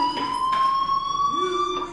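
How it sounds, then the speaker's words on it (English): A fire alarm in the game Life is Strange rings in a steady, piercing electronic tone that holds without a break, filling the space at close range. "Hey, do you hear that fire alarm?"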